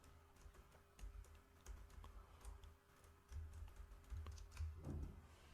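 Quiet, rapid keystrokes on a computer keyboard tap in irregular clusters, with a few soft thumps and low background hum.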